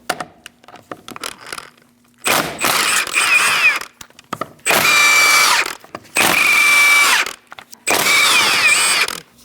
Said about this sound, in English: Using a 17mm socket, we're going to remove our wheel.